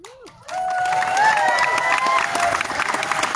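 A convention audience at a William Shatner question-and-answer panel bursts into sustained applause and cheering after a brief quiet start, with scattered whistles riding over the dense clapping.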